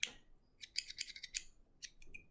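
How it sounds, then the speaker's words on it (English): Small embroidery travel scissors being handled and snipped: a cluster of quick, bright metallic clicks and snaps in two bursts, close and crisp against near silence, with no one speaking. "This cool pair of embroidery scissors."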